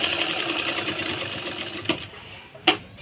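A sewing machine runs steadily, stitching a blouse, with a continuous whirring chatter of the needle. Two sharp clicks follow as it stops, with no talking.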